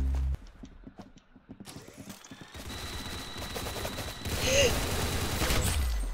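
Gunfire in the Roblox shooter Arsenal comes in quick, sharp bursts of shots over a busy background of game noise.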